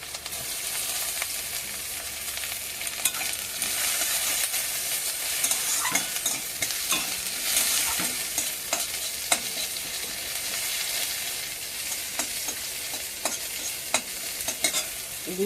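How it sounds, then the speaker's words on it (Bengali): Dried chillies, chopped onion and garlic frying in oil in a wok, a steady dense sizzle throughout with scattered sharp clicks of stirring and spatula scrapes, close and fairly loud, no talk. "কড়াইতে তেল দিয়ে শুকনো লঙ্কা, একটু পেঁয়াজ কুচি, একটু রসুন কুচি,"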